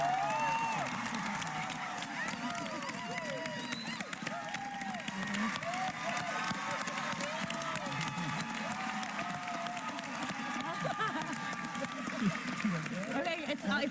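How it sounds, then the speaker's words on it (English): A theatre crowd at a PaleyFest panel for the Grey's Anatomy cast claps and cheers for an actress, sustained applause with whoops and shouts running steadily throughout, loud and full. "Let's have a round of applause for Kelly McCreary,"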